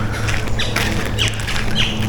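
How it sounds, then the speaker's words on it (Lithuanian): Birds squawking in a tropical rainforest campground near Cairns, a few sharp calls over a steady background hum, fairly close, with no talk. "Paukščiai čiulba, dar viskas ramu"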